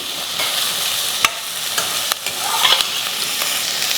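Sliced onion and vegetables for brinjal sambar sauté in a pan, a constant sizzle broken by a few sharp scrapes and clicks of a spatula, close and clear with no one talking.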